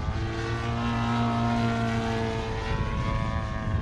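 An Extreme Flight Laser RC airplane flies with its electric motor and propeller producing a loud, continuous buzzing whine that holds steady throughout, close to the listener with no voices.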